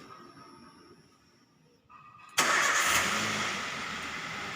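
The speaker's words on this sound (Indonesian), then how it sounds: "Nyalakan mobilnya." A Daihatsu Xenia R Deluxe 1.3 engine cranks briefly and catches, settling into a steady, fairly loud idle close by in a workshop after an AC refrigerant recharge.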